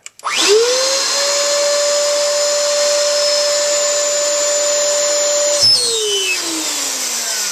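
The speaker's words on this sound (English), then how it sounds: "you can physically see the water being sucked in through the vacuum" A ShishaVac vacuum sucks water up through its hose with a loud, steady high-pitched motor whine that rises as it spins up, holds for several seconds, then winds down with a falling pitch near the end.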